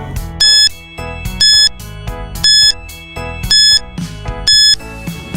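Quiz countdown timer plays a looping electronic tune over a steady beat, with a bright beeping chime recurring about once per second, loud and alone.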